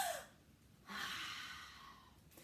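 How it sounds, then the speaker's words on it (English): A children's group takes a deep breath, guided by the story-time leader. A soft exhale fades early, then a long, airy breath rises after a pause and slowly tapers off, quiet and close. "we're going to take 3 big breaths"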